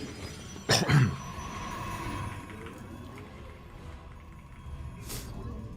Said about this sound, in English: I'm sorry for the coughing once again.